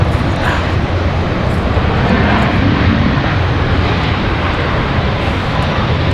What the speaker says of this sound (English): Looks like a 767 for United.